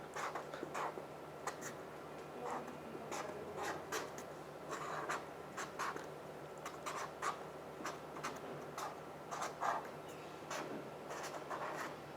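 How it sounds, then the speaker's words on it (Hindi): A pen writes a label on a sharps container, quiet close scratchy strokes coming in short irregular bursts over a faint steady hum. "जब आप शार्प कंटेनर बना लें तो इसके बाद आप इसको लेबल कर दीजिए इस पे आप लिख सकते हैं डेंजर बॉक्स"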